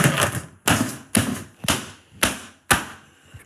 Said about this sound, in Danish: Så sætter jeg simpelthen låget på.